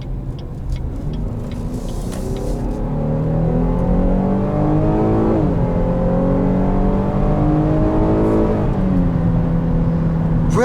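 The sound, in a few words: 2020 Chevrolet Blazer RS 3.6 V6 engine revving and accelerating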